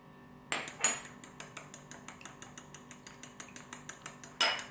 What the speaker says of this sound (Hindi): इसको अच्छे से मैंने मिक्स कर लेना है।